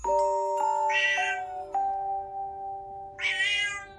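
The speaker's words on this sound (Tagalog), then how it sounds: "Nang isang itim na pusa ang biglaan na lamang sumulpot sa harapan ko." A black cat meows twice, loud and close, with a steady tone holding beneath the calls and a few sharp clicks between them.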